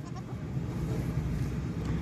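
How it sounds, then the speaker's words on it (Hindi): Rajanpuri goat bleating on a farm, a steady low, hoarse bleat that continues through the whole short stretch among general animal and yard noise. "बड़ी हैवी बकरी है"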